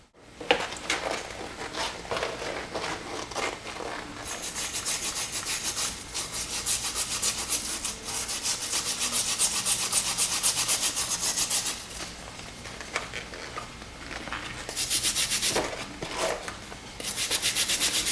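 Rust being scraped off the damaged tang of an old knife, a continuous rough rasping scrape with repeated strokes, close and fairly loud, no talking.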